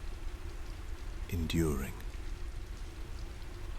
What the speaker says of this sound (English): The rain will continue long after this letter ends.